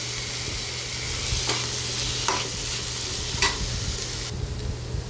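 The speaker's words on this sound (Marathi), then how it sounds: "आता हे सगळं मिक्स करून घ्यायचं आहे आपला टोमॅटो एकदम मऊ होईपर्यंत" Tomatoes with salt softening in a frying pan, a steady close sizzle with a faint background hum and three or four short spatula scrapes as the mixture is stirred.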